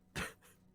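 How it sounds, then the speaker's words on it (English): A single short cough, fairly close and moderately loud, with a faint trailing breath afterward in a quiet room. "Sorry, I was coughing."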